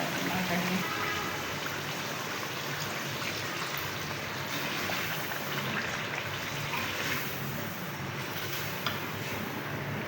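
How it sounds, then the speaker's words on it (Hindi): About a glass of water poured into a simmering potato and egg curry (aloo anda salan) in a cooking pot, a steady close-up splashing, hissing trickle that runs unbroken and fairly loud throughout. "अब इसमें पानी डाल देंगे तकरीबन 1 गिलास के करीब।"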